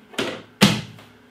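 The small door of a Krups SubCompact beer tap machine is shut, giving two quick plastic thunks about half a second apart, close and clear, the second louder.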